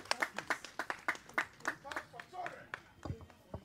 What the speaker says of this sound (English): A round of applause for the orphanage home